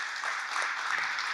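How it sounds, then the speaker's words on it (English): A short round of applause at a head dress ceremony, a modest group clapping steadily for just over a second, moderately distant. "So just give him a round of applause, Apollo Hess."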